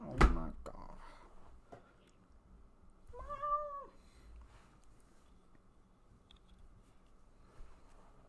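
A house cat gives a single short, rising meow midway through a quiet indoor stretch, preceded by a sharp knock and followed by faint room noise.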